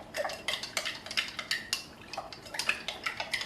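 Stock mixed with water in a bowl: a spoon or whisk clinks rapidly and rhythmically against the bowl, a steady run of light, close metallic taps with faint liquid swishing beneath.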